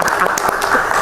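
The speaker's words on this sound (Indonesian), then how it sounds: "Tepuk tangan dong dulu." An audience at a government planning forum breaks into brief, dense applause, loud and close, with clapping filling the whole moment.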